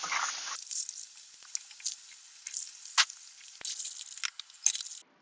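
Andouille sausage sizzles as it hits a hot pan, a soft steady crackle punctuated by sharper pops and spatters, close and fairly quiet with no talking.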